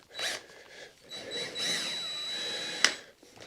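A power drill whirs in short bursts, fairly quiet and close, drilling into a fence door, with a sharp click near the end.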